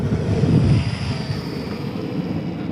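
A WLToys XK F8F Bearcat micro RC fighter plane buzzes past outdoors in gusty wind, a thin propeller whine that swells briefly then fades as it flies away.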